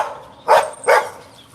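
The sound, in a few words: dogs barking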